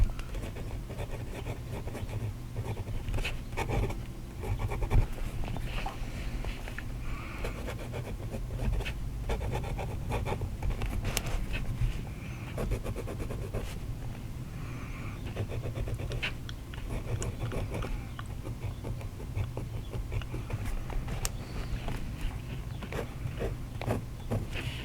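An inexpensive Russian fountain pen nib moves across paper in faint, continuous scratchy strokes with slight feedback, quiet and close, and nobody speaks.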